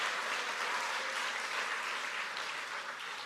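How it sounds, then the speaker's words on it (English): Applause from a crowd at a political campaign rally in a town hall, an even, sustained patter of many hands clapping, somewhat distant and moderately quiet throughout. "Give yourselves another round of applause."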